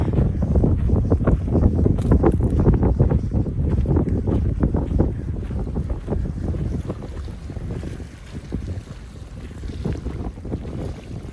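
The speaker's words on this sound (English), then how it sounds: "Pretty windy day." Strong, steady wind roaring and buffeting close by at a lake in the Three Sisters Wilderness, with water lapping faintly underneath; no one speaks.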